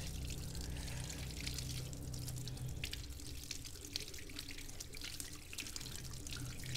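Water running steadily from a tap during handwashing, a faint continuous splash and trickle into a sink, heard alone without talk.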